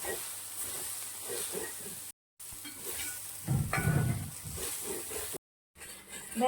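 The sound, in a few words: dry-roasting grated coconut and curry leaves in a pan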